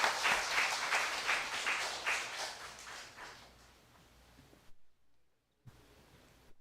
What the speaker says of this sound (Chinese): 那我们再次鼓掌欢迎